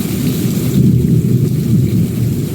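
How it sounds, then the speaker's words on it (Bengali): Steady rain falls continuously with a low, heavy rumble beneath it that suggests thunder, loud and close with no one speaking. "এই যে দেখতে পাচ্ছেন বৃষ্টি হচ্ছে"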